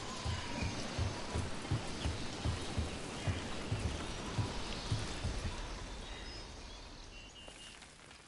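Steady rain hisses over the scene in Dragon Age: The Veilguard, with a regular series of soft thuds like footsteps under it that fades toward the end.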